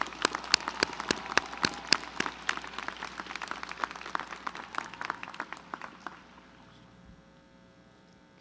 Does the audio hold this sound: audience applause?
yes